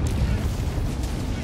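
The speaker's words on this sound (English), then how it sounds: "that explosion?" Missile explosion in the video game Helldivers 2, a loud sustained rumbling blast with heavy low boom that fills the moment, under excited players' chatter.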